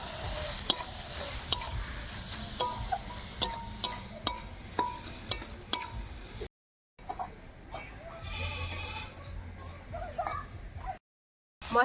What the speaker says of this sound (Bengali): মশলাটা এবার ভালো করে কষিয়ে নেব।